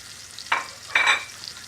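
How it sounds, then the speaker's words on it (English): Two short bursts of hissing sizzle as salmon hits a hot pan, close up against a quiet background. "Here it sizzle up nicely."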